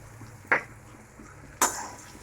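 Ground spice mixture is stirred in a pan, with two sharp metallic clinks of a utensil striking the pan about a second apart over a faint, steady background hiss.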